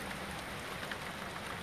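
Steady rain falls during a thunderstorm in Derby, a constant close hiss of drops with no distinct pattering or thunder over the brief stretch.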